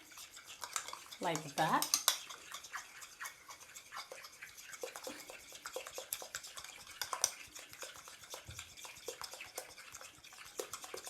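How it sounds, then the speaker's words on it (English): Spoon stirring 250 grams of sour cream in a bowl for an Austrian fish dish, with clinks and scraping rhythmic strokes near and moderately loud, then softer stirring continuing; a person speaks briefly. "the sour cream in here. This is 250 grams. I give it a stir"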